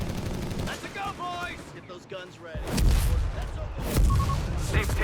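Heavy artillery fire in Company of Heroes 3 with deep booming impacts and gunfire in a battle between Afrika Korps and US Forces, heard under a caster's voice talking throughout.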